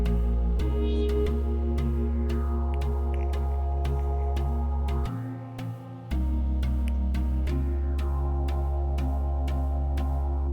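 Liquid drum and bass track with electric keys chords, a deep sine bass and a crisp fast breakbeat, playing steadily with a brief dropout of the low end midway, loud and unaccompanied by talk.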